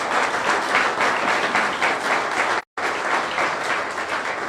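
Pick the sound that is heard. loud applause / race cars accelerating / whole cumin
loud applause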